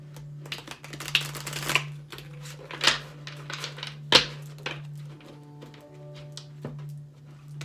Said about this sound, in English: I'm going to do a couple of shuffles here for Capricorn.